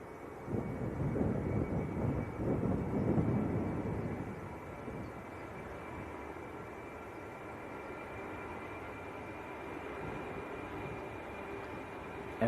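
KLM Embraer E190 airliner at Manchester Airport, its engine rumble swelling fairly close for the first few seconds, then settling into a steady, fainter roar as it moves away.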